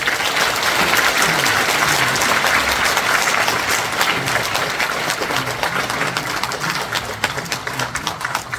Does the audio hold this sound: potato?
no